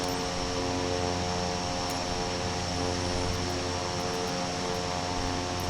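In Microsoft Flight Simulator, an aircraft rolls for takeoff from runway 6 with a steady, loud engine drone and tonal hum that holds constant throughout, with no voices.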